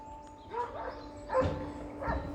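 A dog barks a few times in short spaced bursts, fairly close, over a steady background hum, on a horse farm.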